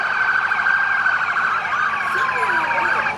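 Police, sheriff and fire department vehicles at a Christmas parade sound their sirens together, wailing and sweeping loudly and continuously at close range amid crowd noise.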